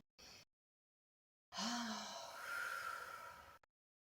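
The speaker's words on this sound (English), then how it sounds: "then we'll take a full breath in out to prepare" A deep breath taken during a Pilates mat session: a short intake, a pause of silence, then a long audible exhale through the mouth, close and fairly soft, with the breath heard alone.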